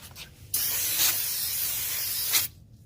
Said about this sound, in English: I just use some brake spray